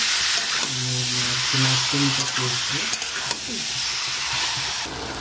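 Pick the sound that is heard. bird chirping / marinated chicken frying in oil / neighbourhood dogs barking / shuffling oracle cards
marinated chicken frying in oil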